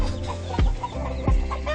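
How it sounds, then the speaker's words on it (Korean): A mother hen on a farm clucks while pecking at her newly hatched chicks. Two short, low clucks stand out close by over a constant background murmur. "어미닭이 도대체 왜 병아리를 쪼는지 도저히 이해가 가지 않지만"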